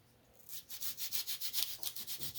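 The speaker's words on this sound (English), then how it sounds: "I'm just going to sand the tips" Sandpaper rubs the tips of a model aircraft tailplane in steady back-and-forth strokes, about a dozen quick, close, even scrapes with no talking.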